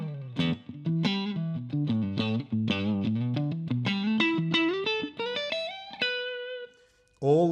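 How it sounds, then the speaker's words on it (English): Electric guitar played through a Roland Micro Cube GX amplifier with a short ambient reverb, a quick run of picked notes climbing upward and ending on a sustained note, then a brief strum, with no talking. "Then the reverbs, little short ambient reverb."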